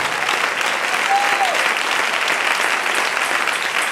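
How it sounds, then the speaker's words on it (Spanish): A crowd claps steadily in sustained, dense applause, with a few voices faintly mixed in. "Dele ese aplauso al Rey."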